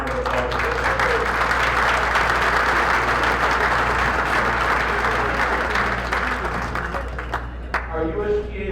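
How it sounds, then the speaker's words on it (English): Sustained applause from an evening audience at a USDA district gathering, steady and loud throughout as the crowd claps for introduced state representatives, tapering slightly near the end. "Give them a round of applause."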